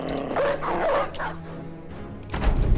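Dogs in a video game bark and yip during a hunt, a few sharp close barks early on followed by a quieter stretch and another burst near the end.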